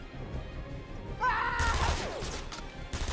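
Gunfire in the video game Batman: Arkham Asylum, a brief burst of shots and crashing impacts over a steady background of game ambience, without speech.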